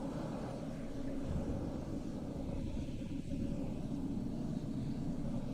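Private jet engines drone as a steady, fairly distant low roar, continuous and unbroken, with no voices over it.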